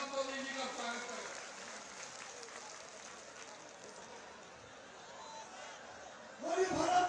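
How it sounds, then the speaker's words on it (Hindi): Applause at a public rally in Pawai, Madhya Pradesh, welcoming a politician, with faint crowd clapping and murmur heard from a distance before a louder voice breaks in near the end. "जोरदार तालियों से माननीय प्रहलाद लोधी जी का स्वागत करें"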